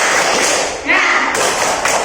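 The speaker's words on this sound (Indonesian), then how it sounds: "Nanti kita laksanakan tepuk semangat" A group of students in a classroom does a rhythmic 'tepuk semangat' spirit clap, with several sharp, loud claps and thuds close by and voices mixed in.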